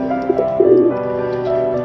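A Bajigar pigeon coos close by in soft, throaty, rolling notes, a short repeated burble with faint background hum.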